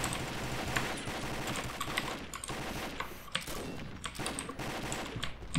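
Dense rapid gunfire from the online shooter game Combat Arms: continuous rattling automatic bursts with sharp repeated shots, loud and unbroken throughout, no talk.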